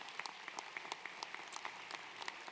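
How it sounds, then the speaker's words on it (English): Faint, distant applause from a commencement audience at the Carson Center, honoring staff, with sparse individual claps standing out over a soft wash. "if we could give them some applause"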